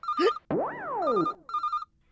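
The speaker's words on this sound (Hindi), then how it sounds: "आपको याद करने वाले का फोन आ गया।" Phone ringtone chiming in a home setting from a comedy series, an electronic melody in three short bursts with rising and falling sweeping tones, clear and close with no voices.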